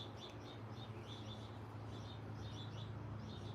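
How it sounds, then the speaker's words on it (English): Birds sing outdoors near a patio, repeated faint chirps and tweets in short bursts over a soft, steady background hiss. "I can hear the birds singing."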